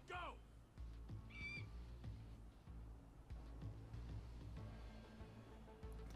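A bird in the video game GTA 5 lets out a couple of brief squawking calls, with a low game engine hum running underneath throughout and some faint background voices.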